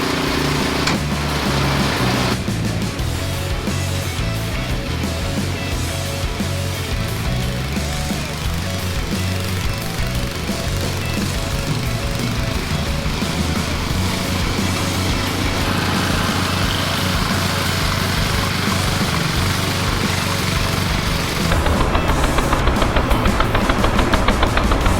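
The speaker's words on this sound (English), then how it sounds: "we got nothing but solid packed ice right here to dig through with that snowblower" A 50-year-old Ariens snowblower digging through packed snow and ice, its small engine roaring loud and close for the whole stretch, rising in pitch and volume near the end as it works under load, with no voices.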